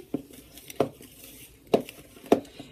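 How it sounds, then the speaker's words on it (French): A spoon clinks against a bowl while stirring chocolate muffin batter, four sharp knocks at uneven intervals over a soft scraping background. "Je vais bien mélanger jusqu'à l'obtention d'une bonne pâte."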